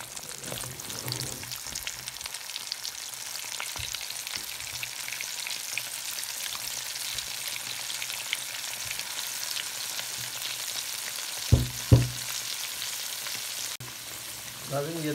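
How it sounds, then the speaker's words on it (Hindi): Chicken broast pieces coated in cornflour and cumin deep frying in hot oil, a steady crackling sizzle throughout, with a few soft knocks and bumps near the end. "अब हम इसको डीप फ्राई करेंगे।"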